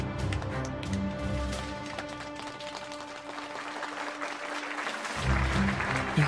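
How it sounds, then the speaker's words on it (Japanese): Scattered clapping from a crowd in the video game Sword Art Online Alicization Lycoris, moderately loud, over a soft musical backdrop with sustained tones. "よかった、一部の貴族以外はちゃんと拍手してるね"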